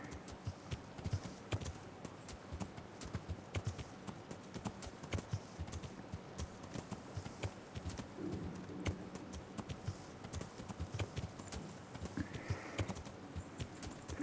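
Horse hooves on a trail in the video game Kingdom Come Deliverance, a steady, moderately quiet clip-clop rhythm throughout, with no talking.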